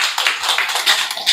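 Audience applause greeting a singer at an opening ceremony, a dense, steady wash of many hands clapping close and loud without pause.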